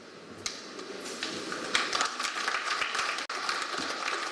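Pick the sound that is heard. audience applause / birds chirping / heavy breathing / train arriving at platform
audience applause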